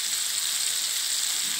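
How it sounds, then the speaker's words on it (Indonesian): Battered squid deep frying in hot oil until crispy, a steady loud sizzle with no pauses and no voices. "So sekarang ni sotong celup tepung ni kita goreng sehingga garing ya."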